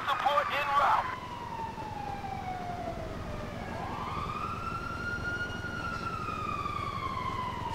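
A police siren in Grand Theft Auto V wails from a distance, its pitch sweeping down then rising again in a slow cycle, after a brief loud burst at the start.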